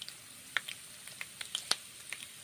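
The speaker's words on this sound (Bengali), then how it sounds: "এখন গরম তেল করে ভালো করে ভেজে নিচ্ছি।" Cabbage fries in hot oil in a pan, giving faint, scattered sizzling crackles and small pops over a soft, steady hiss.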